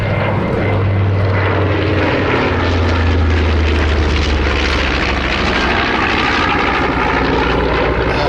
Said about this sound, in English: The last pass of the B25.